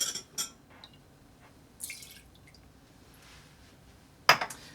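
La Copa Rojo vermouth is poured into a mixing glass for a Remember the Maine cocktail. Faint splashes and drips sit over quiet room noise, ending with a sharp glass clink.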